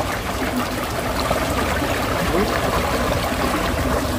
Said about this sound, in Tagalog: Malakas nga ang pasok. Kaya pala tumataas ang tubig.